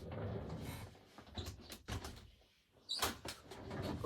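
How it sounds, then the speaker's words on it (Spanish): A door swings open to let a kitten through, with a short burst of creaking and shifting wood that rises again toward the end amid soft room noise; no talk. "déjame abrirle la puerta al gatito."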